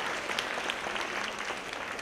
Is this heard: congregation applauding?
yes